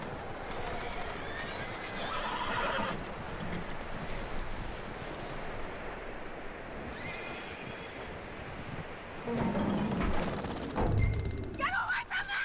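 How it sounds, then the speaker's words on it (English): A horse whinnies loudly in the video game Red Dead Redemption 2 while hooves clop and thud nearby, with muffled voices and outdoor ambience in the background. "that looks like a decent horse"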